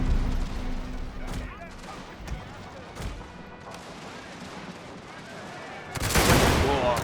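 Musket volleys ring out in a Total War-style strategy game battle, with repeated rolling gunfire cracking at close range over a continuous din. The salvo swells into a dense, loud burst near the end, and someone talks over it.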